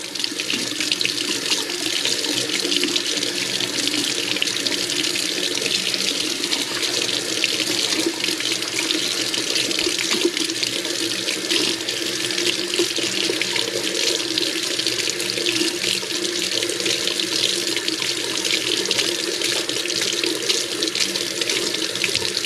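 Hot water runs steadily from a tap into a sink for the full stretch, a constant close splashing hiss with no pauses and no voices.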